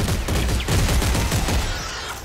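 Rapid bursts of gunfire from a weapon in the video game Dead Space 3 crackle in a loud, continuous rattling stream, with sharp repeated shots and no talk over them.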